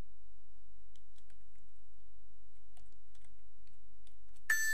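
Light keystrokes tapped on a computer keyboard as search keywords are entered, faint scattered clicks over near silence, ending with a brief sharp tone.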